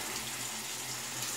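Tap water runs steadily from a faucet to wet a shaving brush, a close, continuous splashing hiss with no voices.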